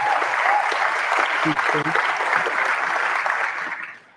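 An audience at an election results announcement event applauds loudly and steadily, with a voice speaking briefly over the clapping before it fades out at the end.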